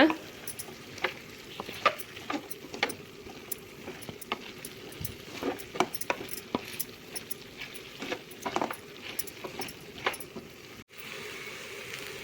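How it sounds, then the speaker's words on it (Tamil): A spoon scrapes and clatters in a pan while stirring cauliflower with masala powder, making irregular close clinks over a faint sizzle. "இப்போ மசால் தூள்லாம் போட்டதுக்கப்புறம் நல்லா கலந்து விட்டுக்கோங்க"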